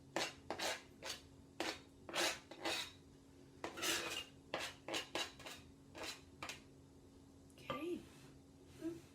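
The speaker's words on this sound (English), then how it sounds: "coarsely chopped, so I'm going to put them in my mixing bowl" Coarsely chopped cherries go into a mixing bowl in a home kitchen, heard as a string of bright clinks and scrapes of a utensil against the bowl in quick irregular taps.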